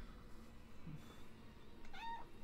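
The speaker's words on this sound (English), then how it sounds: "My kitty cat." A pet cat named Bella gives a short, faint meow near the end, quiet and close over a low steady background hum.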